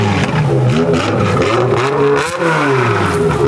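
A BMW M5 with a V10 engine revs hard up close, its pitch climbing and falling in repeated sweeps, loud and alone.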